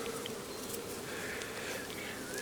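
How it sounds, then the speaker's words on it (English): Honey bees humming around an opened beehive on a farm, a soft, continuous buzz of many insects close by with no speech. "And there's a lot of bees up here"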